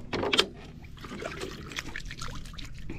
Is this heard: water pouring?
yes